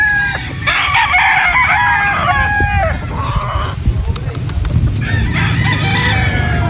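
Gamefowl roosters of white kelso and sweater breeds crowing repeatedly and loudly up close, with overlapping calls and clucks amid a busy background.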